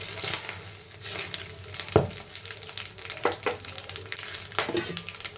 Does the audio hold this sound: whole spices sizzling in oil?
yes